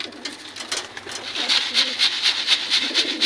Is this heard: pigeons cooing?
yes